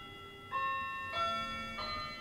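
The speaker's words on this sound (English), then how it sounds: "And there's the bell." Bell struck three times at a steady pace, each stroke a clear ringing tone that lingers and overlaps the next, fairly quiet against a soft background.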